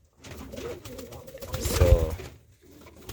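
Capuchine pigeons coo in a breeding loft in Jamaica, giving soft, low, rolling calls that swell to a louder close coo near the middle, with someone speaking briefly over them.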